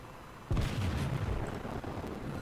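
A Kongo battleship fires a main-gun salvo in World of Warships: one sudden heavy boom, with a rumbling low tail that lingers and slowly fades over the next two seconds, and no talk over it.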